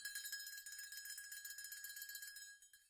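A small metal bell resembling a cowbell is struck repeatedly in a quick, steady rhythm, bright and clear, before the ringing fades at the end.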